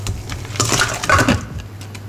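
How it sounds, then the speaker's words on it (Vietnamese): A pot of water is set onto a stove to boil for cooking mantis shrimp, making a few close metallic clanks and clinks over a low steady hum. "Mình sẽ bắc lên đây là một nồi nước."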